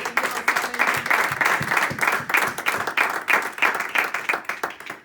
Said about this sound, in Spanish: ¿Alguien puede darle un aplauso a Cristo Jesús?